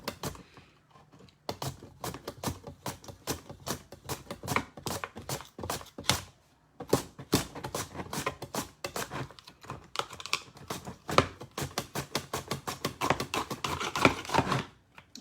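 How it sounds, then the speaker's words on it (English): A handheld potato slicer pushed down through a potato on a cutting board makes rapid, irregular clacking and chopping taps, close and crisp, in quick bursts with short pauses between them, no talking. "And voila, you got your potato sliced up just like that"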